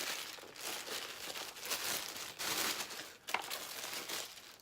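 Packaging crinkles and rustles as a monthly jewelry and accessories subscription gift box is opened, close and steady with a sharp rip near the end.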